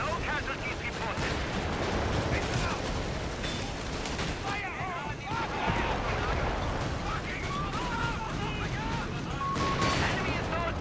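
Artillery fire with phosphorus gas shells rumbles through a video game battlefield as a dense, continuous barrage of booms and crackling blasts, with a voice speaking over the din.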